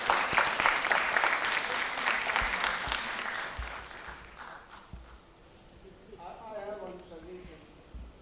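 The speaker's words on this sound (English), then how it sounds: "Can we have a big round of applause, please?" A big round of applause fills a hall at an international symposium on gut health, loud and dense at first, then tapering off as a voice begins speaking near the end.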